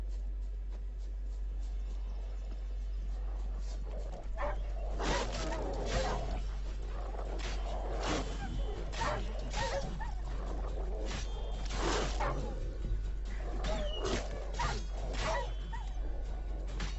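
Dogs in The Witcher 3 yelp, whimper and bark in scattered bursts over a steady game ambience, several sharp outbursts close together in the middle, with no talking.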